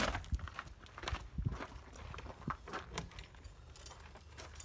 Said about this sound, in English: let me just get the keys